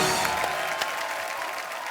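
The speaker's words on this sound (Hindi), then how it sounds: "आपकी जोरदार तालियों के बीच the very beautiful, very talented Tamannaah Bhatia and mister Prabhudeva" A studio audience at a comedy show breaks into loud, dense applause to welcome Tamannaah Bhatia and Prabhu Deva, a continuous wash of clapping that slowly eases off.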